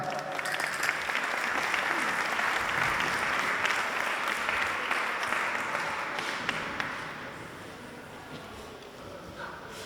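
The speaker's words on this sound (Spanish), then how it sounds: "Un aplauso para él." An audience applauds a gaita (bagpipe) player at an Asturian cultural awards event, giving a sustained, dense wash of clapping that builds and then gradually fades toward the end.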